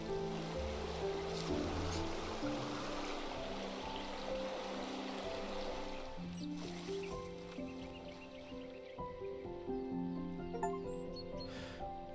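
Gentle flowing water at a garden pond in the video game Botany Manor, a steady soft wash and trickle running throughout beneath sustained musical tones, with no talking.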